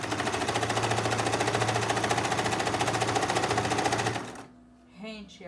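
Sewing machine running a fast, steady stitch through fabric for a kitchen piece for about four seconds, then stopping abruptly, followed by a brief quieter handling sound.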